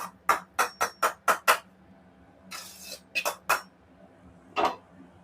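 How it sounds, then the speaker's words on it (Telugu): Roasted semolina for rava laddu being scraped and tipped from a pan into a pot: a quick run of six sharp metal clinks and scrapes, a softer rustling pour, then three more clinks and one final knock, close and fairly loud. "వేయించుకున్న రవ్వ అంతా ఇందులోకి తీసేసుకున్నాం కదా"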